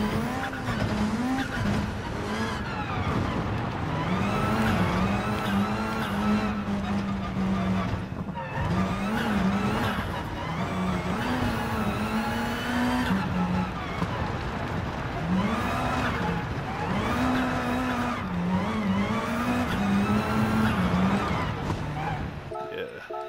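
Race car engines in Gran Turismo Sport, driven over rough terrain, wail in repeated rising and falling pitch sweeps as gears change, with tire skids mixed in, loud and continuous throughout.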